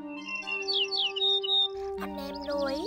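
Calls of the Chim Sẻ Đồng Vàng, a Vietnamese songbird, in a recorded flock-calling track: quick bright chirps and rising trills over a sustained tone, followed by a louder burst of sharper calls, fairly faint overall.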